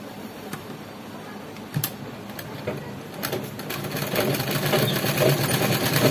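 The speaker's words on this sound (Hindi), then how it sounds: "अब मैं गरारे की स्टिचिंग करना शुरू करती हूँ।" A sewing machine stitches gharara fabric with a fast, steady mechanical whirr and ticking. It grows louder and busier toward the end and is heard close up without talk.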